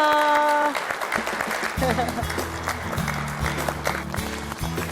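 A church congregation at Incheon Second Church claps to welcome a speaker, a continuous round of applause that follows a brief tone and carries on beneath low, pulsing music.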